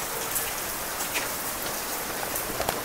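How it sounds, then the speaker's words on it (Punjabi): Steady rain pours down and patters densely on surfaces, an even, continuous wash of sound with scattered louder drops. "ਸੋਹਣਾ ਮੀਂਹ ਆਇਆ ਅੱਜ"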